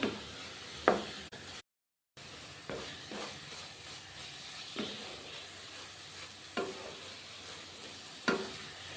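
Onion and tomato masala frying quietly over a low gas flame, a soft, steady sizzle broken by periodic scraping stirs, close but faint, with a brief silent gap and no voices.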